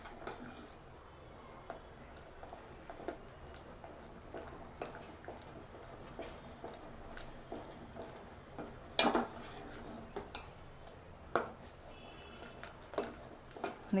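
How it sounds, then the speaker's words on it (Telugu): Cashew paste mixed into a kulfi base, soft intermittent stirring taps and light scrapes of a spoon against the vessel across the whole stretch, one sharper clink midway, fairly quiet with no speech. "జీడిపప్పు పేస్ట్ మొత్తం వేసిన తర్వాత ఒకసారి కలిపెట్టండి"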